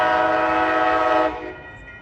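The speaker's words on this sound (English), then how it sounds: "here comes Amtrak train number 11, called Starlight" An Amtrak Coast Starlight passenger train, led by ALC-42 locomotives, sounds a loud, sustained multi-tone horn as it passes 98th Avenue in Oakland, California; the blast cuts off and rumbles away within about two seconds.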